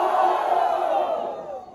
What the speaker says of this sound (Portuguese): barulho pra quem gostou das rimas de Lilvi.